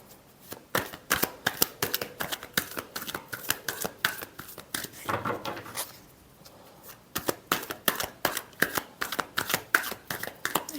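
Tarot cards are shuffled close by in rapid riffling bursts that stop for a brief pause and then pick up again, crisp and quiet, with no talk.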